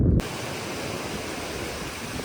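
A river stream flows on a mountain trek near Mt Yunam, a steady rushing roar of water heard up close and continuous, alone without talk.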